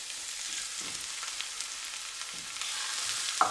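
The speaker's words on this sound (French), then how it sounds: "On va les faire revenir rapidement avec la viande hachée." Red and green peppers and onion frying with minced beef in a pan, a soft continuous sizzle with a couple of faint stirring scrapes and a sharp clink near the end.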